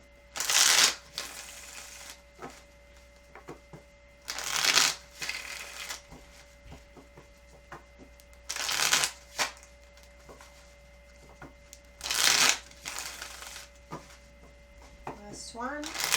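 Tarot cards are shuffled in four or five quick riffling bursts spaced a few seconds apart, crisp and close, with quiet gaps and a low steady hum between them.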